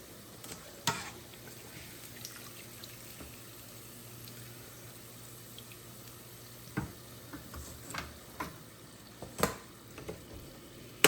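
Fries cooking in hot grease give off a faint, steady sizzle, with scattered pops and crackles breaking through now and then.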